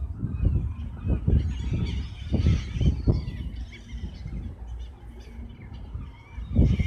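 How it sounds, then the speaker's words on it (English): Seagulls at the beach squawk close by in loud, harsh bursts that come in quick succession and then thin out, over a rough outdoor background. "Look, the husband's being attacked by seagulls."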